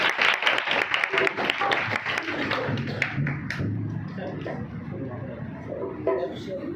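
Audience applause in a gathering, a steady patter of many hands clapping through most of the stretch, mixed with a talking voice.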